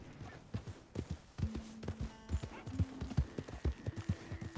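Rapid, regular clip-clop of horse hooves on hard ground in Red Dead Redemption 2, steady and close, with faint tonal game sounds in the background.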